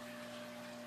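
A fish tank's multi-stage trickle filter and water pump run with a steady, faint hum and a soft, constant wash of moving water, with no other sounds.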